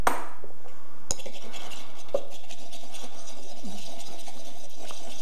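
A whisk or spoon stirring a honey, salt and pepper salad dressing in a bowl, with a few sparse clinks and taps of metal against the dish in a quiet kitchen.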